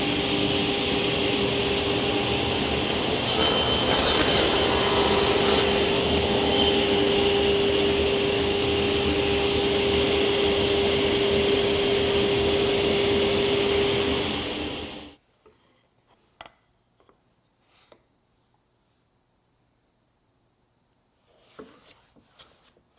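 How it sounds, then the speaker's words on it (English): A saw rips wood strips to about 20 millimetres using a Fritz and Franz jig, a steady loud cutting whine that runs for about fifteen seconds, then stops abruptly, leaving near silence broken by a few faint knocks and handling sounds. "now I'm going to use the Fritz and Franz jig to rip these to 20 millimeters"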